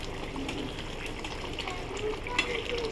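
Simmering tilapia and potato fish curry being stirred in a pan: soft bubbling and gentle scraping at low volume, under a voice speaking Bengali.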